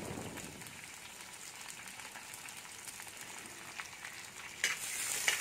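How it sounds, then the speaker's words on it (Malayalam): Green chilli, curry leaves, shallots and ginger sauté quietly in a pan for leftover-idli upma, a faint steady sizzle with soft stirring that swells slightly at the end. "നമുക്കൊന്ന് വഴറ്റി കൊടുക്കാം."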